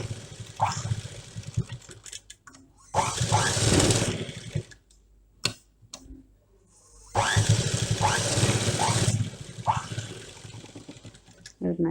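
Sewing machine stitching seams on a double-layer cloth face mask, running in two loud bursts of steady whirring with quiet handling pauses between them.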